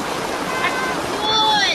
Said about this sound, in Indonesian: Air terjun, betul sekali.